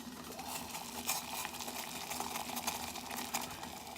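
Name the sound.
water at a rolling boil on a survival stove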